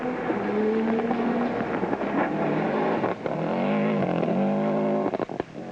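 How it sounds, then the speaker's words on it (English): A Subaru rally car on a stage of the 1998 Bulldog Rally revs hard and passes, its engine rising and falling loudly with crackling exhaust pops as it shifts and fades away. "Lovely crackle of the Subaru exhaust."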